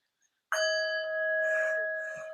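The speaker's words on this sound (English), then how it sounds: "Now, that's the real bell." A real bell is struck once and rings out in a sustained, clear tone that slowly fades over a couple of seconds, loud and close, with no talking over it.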